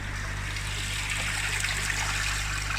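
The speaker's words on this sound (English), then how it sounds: "It gets pumped up into the tidal filter and then it just cascades down." Water trickles and cascades steadily through a Seachem Tidal hang-on-back aquarium filter, a continuous close splashing flow over a low steady pump hum, with no talking.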